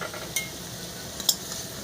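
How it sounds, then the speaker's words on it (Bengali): Taro pieces frying in spiced tempering oil in a pan, a steady low sizzle with two brief sharp clinks of a utensil against the pan. "এবার ওই ফোড়নের মধ্যেই কিন্তু কচুটা ভেজে নেব"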